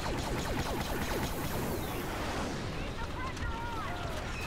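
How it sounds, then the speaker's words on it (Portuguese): Spaceship blasting away in Star Wars Battlefront Walker Assault, a dense, continuous barrage of explosive booms and laser-like zaps with rising whines, under excited shouting from a player. "A navinha tá atirando, cara!"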